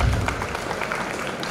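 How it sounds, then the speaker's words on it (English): Audience at an HR conclave applauding to welcome a speaker to the stage, a short dense burst of clapping heard close and fairly loud, with no talk over it. "Please welcome sir with a huge round of applause."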